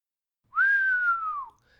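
A man whistles a single sustained note that bends slightly down at the end, clear and close, lasting about a second with silence around it.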